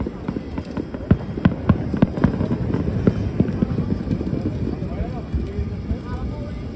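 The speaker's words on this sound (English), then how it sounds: "You can hear the sound of the fireworks ricocheting off the buildings in Brickell Key." Fireworks burst over Brickell Key in Miami at night, a string of sharp, distant bangs echoing off tall buildings under wind and outdoor crowd noise.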